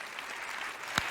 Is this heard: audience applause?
yes